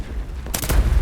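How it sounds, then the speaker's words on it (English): A bomb explosion in War Thunder, heard during a Panzer II DAK match as a single sudden sharp blast midway through, followed by a deep rumbling tail. "That's a big bomb."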